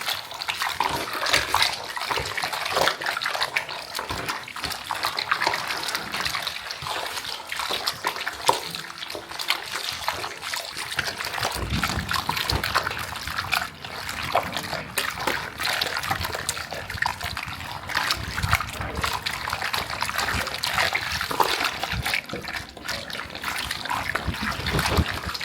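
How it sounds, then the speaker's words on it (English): Snails being washed with alum in a basin of water to strip their slime, with steady sloshing, trickling and splashing throughout, close and continuous. "We are going to use the alum to wash it very well because of the slime."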